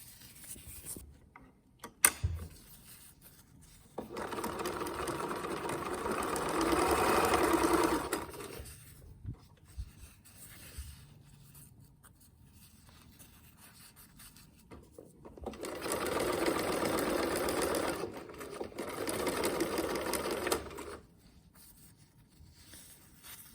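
A sewing machine stitches fabric for homemade menstrual panties, running in two long steady whirring bursts of several seconds each, separated by quiet handling of the cloth.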